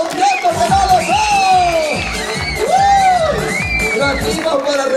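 A lively crowd of children and adults cheers, whoops and shouts at a clown's show in Ahuachapán, loud and close, with overlapping excited voices rising and falling throughout.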